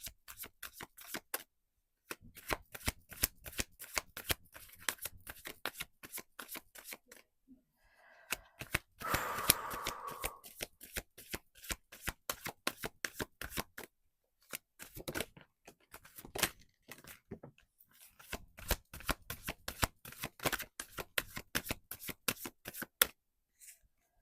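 A deck of angel oracle cards is shuffled over and over in quick crisp riffles and taps, close and clear, with one brief softer rustle partway through.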